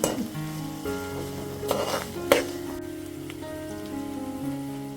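Lime pickle ingredients fry in hot oil with a continuous, close sizzling crackle, punctuated by a few brief stirring clatters and scrapes.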